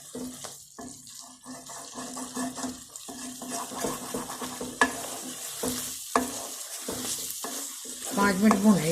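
Egg and pea keema masala fries in ghee in a pan, a continuous close sizzle broken by spoon stirring and scraping that grows busier toward the end; no one speaks.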